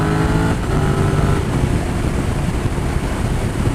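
A carbureted car engine runs steadily and loudly throughout, a dense continuous rumble with a brief tonal component early on and no talking.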